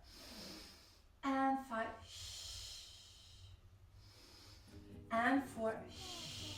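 Breathing during a Pilates workout with yoga blocks, two strong audible exhales with snorting air at a steady interval, close and clear, with an instructor counting reps between them.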